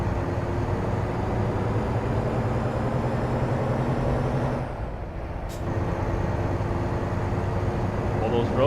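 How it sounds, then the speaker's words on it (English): A heavy truck engine drones in American Truck Simulator, a steady low rumble with road noise that briefly dips and swells back, while a person talks over it. "Let you hear that engine."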